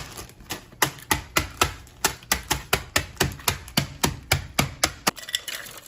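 Food being chopped inside a closed plastic bag, a rapid, evenly spaced run of about twenty sharp, close knocks that ends after roughly five seconds.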